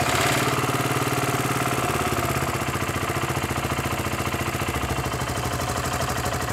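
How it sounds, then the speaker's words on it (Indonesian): A BSA Gold Star 650 motorcycle engine idles steadily up close, a low, even rhythmic chugging that holds at a constant pace throughout with no other sounds. "Ada suara-suara mesin yang khas ala-ala BSA zaman dulu ya."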